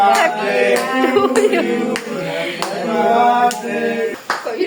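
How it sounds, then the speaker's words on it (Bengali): Rhythmic hand claps keep time at a birthday celebration, landing as regular sharp pops beneath a group singing together at close range. "শাইন ভাই হাততালি দেন"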